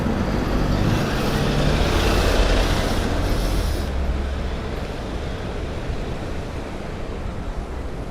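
A truck moves through Manhattan street traffic, a loud broadband engine roar that swells over the first few seconds and then eases into a steady, lower traffic rumble as it passes.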